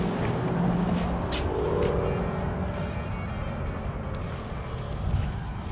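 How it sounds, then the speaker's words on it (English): Steady road traffic from US 41 running past a town-centre park, a continuous broad rumble of passing cars at moderate distance with no talking. "there's a lot of traffic noise throughout this video"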